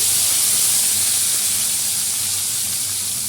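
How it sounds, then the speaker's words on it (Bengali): Dried red chillies, black cumin and bitter gourd frying in hot oil while red leafy greens are cooked: a loud, steady, close hissing sizzle that continues without a break. "শুকনো লঙ্কা, কালো জিরা ফোড়ন দিলাম, একটু করলা দিয়ে দিচ্ছি"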